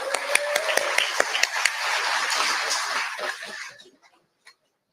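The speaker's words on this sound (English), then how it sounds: "You guys give yourself a round of applause too." A rally crowd applauds, with dense clapping and a few sharp standout claps that hold steady for over three seconds, then thin out and fade to silence.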